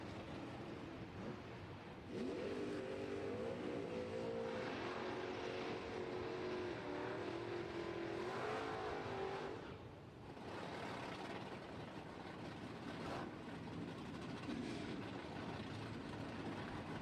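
Drag racing cars, a Dragster and a Vega, accelerating hard down the strip at a doorslammer event, a loud sustained engine roar with a rising tone that drops off briefly near the end, then continues as distant rumble.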